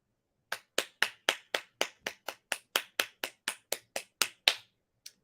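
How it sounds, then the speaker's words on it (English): A single person claps about sixteen sharp, evenly spaced times in quick rhythm, close and distinct, with a short pause before one last clap at the end; no voices. "Give that woman a round of applause."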